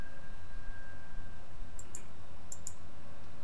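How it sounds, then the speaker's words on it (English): Computer mouse clicks during AutoCAD drafting: two quick pairs of crisp, faint clicks over a steady room hum, close to the microphone. "Click the vertical line and right click"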